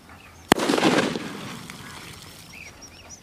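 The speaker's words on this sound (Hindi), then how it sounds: "देखा आपने कितना खतरनाक धमाका हुआ" A single sharp blast from a remote-detonated firecracker cracks out loudly, followed by a noisy crackling hiss and rumble that fades slowly, with faint birdsong afterward.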